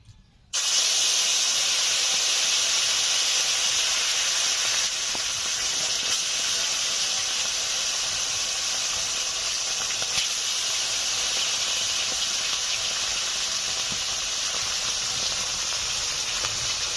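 Koi fish fry in hot mustard oil in a wok, an abrupt loud hiss that starts within the first second and holds as a steady, dense sizzle for the rest of the clip, close and alone.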